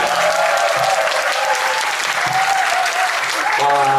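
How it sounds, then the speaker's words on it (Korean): Steady applause from a crowd at a wedding, loud and sustained throughout, with a few faint voices mixed in. "박수 한번 부탁드리겠습니다."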